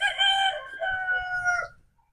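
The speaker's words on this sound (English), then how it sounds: "Let's stick a rooster." A rooster crows once, a single clear cock-a-doodle-doo at moderate distance, fading out into quiet.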